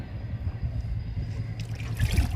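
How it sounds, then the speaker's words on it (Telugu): Kitchen waste liquid poured onto a young ridge gourd plant in a garden, a soft trickle and splash against soil and leaves, close and quiet over low outdoor background noise. "ఈ మొక్కకు కూడా ఇచ్చేద్దాము లిక్విడ్ని"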